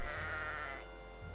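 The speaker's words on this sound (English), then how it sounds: "let's get rid of these goats because they're annoying" Goats bleat in the tower-defense video game Kingdom Rush: one short, wavering bleat, fairly clear and close, fading quickly into quiet game background.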